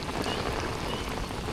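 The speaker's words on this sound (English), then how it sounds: "rain's coming down" Steady rain falls on open water and the ground beside a winter carp-fishing swim, an even, close hiss with fine pattering drops that stays constant and alone.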